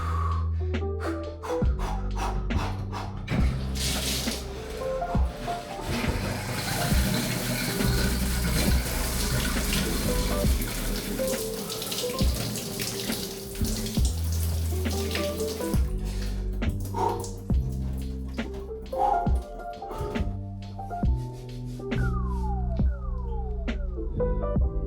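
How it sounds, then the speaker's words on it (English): A cold shower runs in a bathroom, a continuous hissing spray of water that stays steady throughout, mixed with scattered clicks and bumps and some tonal background sound. "Cold shower, let's go."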